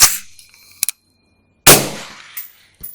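Suppressed 5.56 rifle shots through a PTR VENT Spiritus suppressor set to position 5, with two loud broadband reports about a second apart, the second followed by a long decaying tail, plus a sharp mechanical clack at the start and a smaller one near the end.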